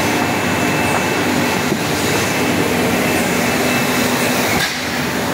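A machine that produces polystyrene packaging boxes runs with a steady, dense mechanical roar and hiss. The noise is loud and continuous throughout, with only faint clicks and knocks within it.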